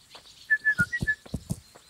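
A player character in Kingdom Come: Deliverance whistles for a horse with a quick run of short, bright whistle notes, followed by a few soft thuds; no talking.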